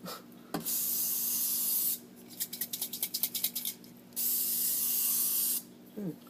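Bursts of cooking oil spray hissing onto a Pyrex dish in long sustained blasts, broken by a run of short rapid pumping spritzes in the middle, close and fairly loud.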